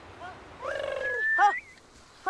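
Honeyguide bird calling in reply during a N'Dorobo honey hunt in Kenya, a few clear chattering, rising and falling notes, fairly close in open air.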